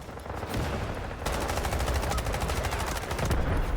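Rapid bursts of automatic gunfire in the video game Delta Force, a K437 rifle, crackle in quick succession, loud and dense, with a brief lull before a sustained volley.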